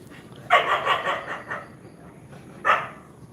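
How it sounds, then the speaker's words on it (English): Dogs bark loudly nearby in a quick burst of several barks, then fall quiet before a single bark returns a moment later. "all the friggin' dogs, calm yourselves"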